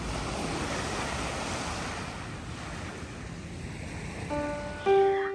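Surf at Flic-en-Flac beach in Mauritius, a broad steady wash of waves with wind buffeting the microphone, continuous and fairly loud, with a brief tonal chime rising near the end.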